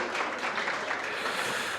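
Wedding guests in a grand convention ballroom break into dense, sustained applause, a wash of many hands clapping at once that stays even and fairly loud across the room.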